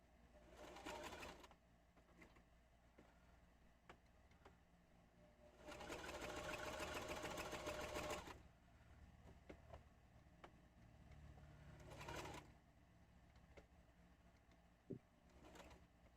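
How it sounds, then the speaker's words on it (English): A sewing machine runs a straight stitch in several bursts, the longest about two seconds, separated by quiet pauses with faint handling noises, close and steady while running. "We're gonna sew these ones with a straight stitch."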